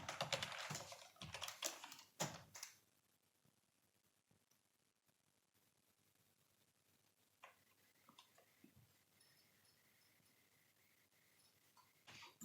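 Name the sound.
typing a git command on a computer keyboard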